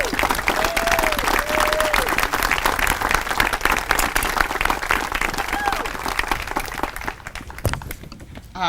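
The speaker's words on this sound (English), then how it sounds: "give them a big round of applause as they do" A large crowd applauds two councilwomen at an outdoor pet project groundbreaking in Swope Park, with dense, steady clapping lasting several seconds and faint voices mixed in before it fades.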